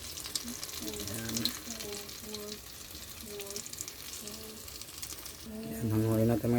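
Banana blossom omelette with corned beef and egg frying in a pan, a continuous sizzle running throughout and swelling louder near the end, with a person talking over it.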